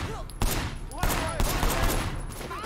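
Sleeping Dogs gameplay gunfire: a rapid burst of loud shots at the start, then a sharp shot near one second and more bursts, with steady in-game background sound between them and no talk.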